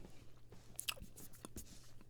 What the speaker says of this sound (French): Quand on croque l'œuf, on a l'impression que le chocolat se casse doucement